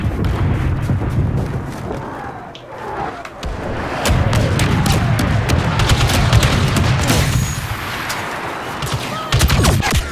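Blaster fire in Star Wars Battlefront 2 comes as rapid bursts amid dense battle noise with booms and low rumble. The shots sound close and loud and keep going almost continuously.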